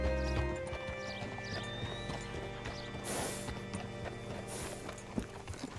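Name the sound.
horse hooves in video game Red Dead Redemption 2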